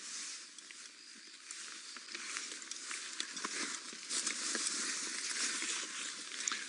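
Rain patters steadily on rain covers during a safari game drive, a soft, dense hiss of tiny drops that stays close and continuous throughout.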